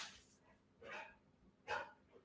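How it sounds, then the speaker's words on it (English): An indoor pet dog barks three times, short and faint, with gaps between each bark. Nobody speaks. "What are you barking at?"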